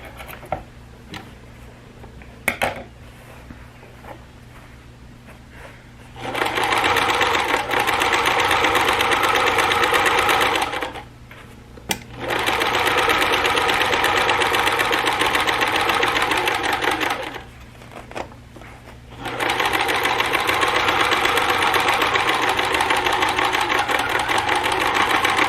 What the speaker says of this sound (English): my stitching down the side is done